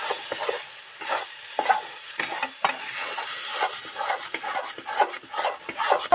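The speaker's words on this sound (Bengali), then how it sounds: "ভালো করে নেড়ে চেড়ে মিশিয়ে দেব।" A spiced green pea paste with chilli, turmeric and salt is stirred in a pan, producing repeated scraping and dabbing strokes over a soft sizzle, close and uneven in rhythm.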